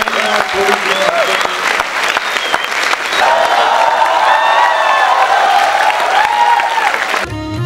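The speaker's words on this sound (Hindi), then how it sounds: "तालियां बजा दीजिए।" Loud, sustained audience applause at a Hindi kavi sammelan poetry gathering, dense clapping from a large crowd that swells midway and cuts off abruptly near the end.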